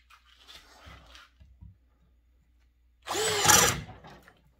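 A Bauer cordless hammer drill on a charged battery gives one loud, close burst of rising motor whine lasting under a second, after some quieter handling knocks.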